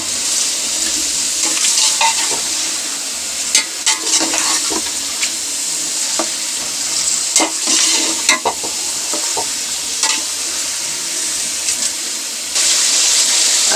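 Beef frying in a pot for degi korma with salt and spices, giving a steady loud sizzle throughout, broken by repeated scraping stirs and clatters of the spoon, with no talking.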